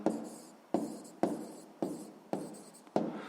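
A pen scratches across paper in five or six short, evenly spaced strokes while a math answer is written down, close and quiet in a still room.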